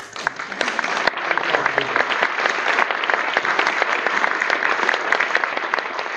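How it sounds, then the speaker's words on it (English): An audience applauds at a Florida event welcoming Embraer to Brevard, many crisp individual claps forming a sustained, fairly loud ovation that runs unbroken throughout. "You may all applause now."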